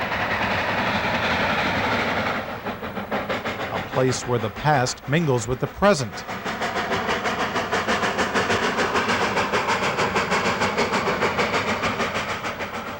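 A Cumbres and Toltec Scenic Railroad steam train rumbles along with a steady clatter of rolling cars, and a brief whistle-like warble partway through. A narrator speaks over it.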